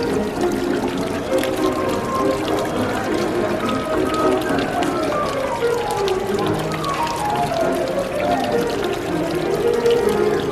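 Water sprays steadily in a carnival water-duck racing game, a continuous hissing splash under faint background chatter.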